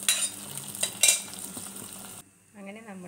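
A hot tempering of mustard seeds, fenugreek and curry leaves is poured into ash gourd pulisseri, giving a loud crackling sizzle with metal clinks that cuts off abruptly, after which a faint tonal hum follows.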